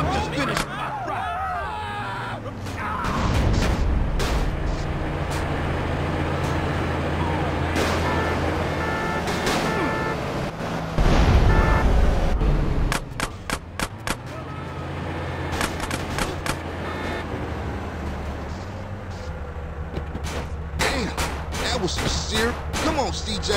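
Gunfire crackles through GTA San Andreas Definitive Edition's drive-thru mission, with rapid shot bursts mixed with car engines and police commotion, and characters shouting over the chaos.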